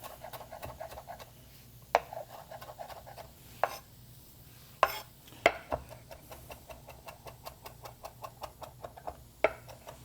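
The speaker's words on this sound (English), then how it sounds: "And just going to run my knife through. Chop this up pretty fine." A knife chops fresh parsley finely on a cutting board, with a rapid, uneven series of light taps and a few sharper knocks, close and fairly quiet.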